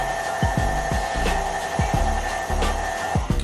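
A stand mixer runs steadily while mixing cake batter, giving a continuous motor whir with a regular series of low knocking thumps from the beater turning in the bowl.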